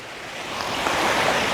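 Ocean waves washing onto a shore, with a steady broadband wash of surf that gradually swells louder, with some wind.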